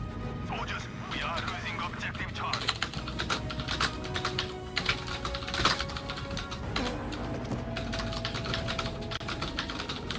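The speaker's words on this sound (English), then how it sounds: "It's a lot of typing." Steady computer keyboard typing runs throughout, dense and close, with bursts of rapid key clicks under occasional background speech during a Witcher 3 gaming session.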